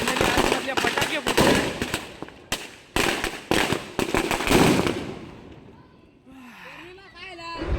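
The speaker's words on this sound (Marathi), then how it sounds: "फटाके." Firecrackers bursting around a burning Narakasura effigy, loud rapid volleys of cracks and pops for several seconds, then a pause before more distant crackling, with voices shouting nearby.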